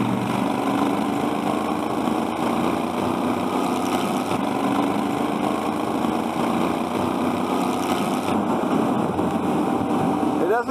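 A 1996 Suzuki Intruder VS1400 motorcycle engine drones steadily at close range while accelerating to pass a vehicle, with little change in pitch and wind noise throughout.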